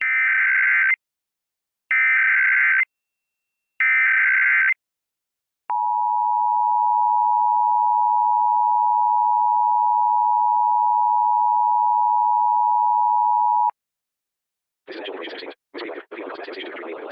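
A broadcast emergency alert sequence: three loud, identical two-tone bursts, then a long steady single tone held for about eight seconds, followed by a burst of harsh digital data noise.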